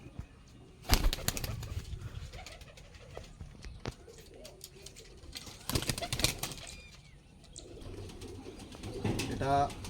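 Lalpori pigeons, a high-flying breed, heard at close range with soft coos and bursts of wing flapping scattered through the stretch, plus some handling noise.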